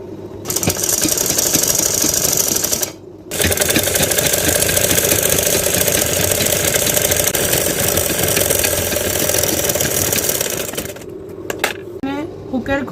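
A sewing machine runs in long steady bursts as it stitches two folded layers of fabric for a lehenga blouse, a fast mechanical whir with a brief pause near the start and clicks at the end.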